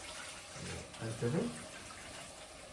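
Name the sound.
water being poured into cooking pot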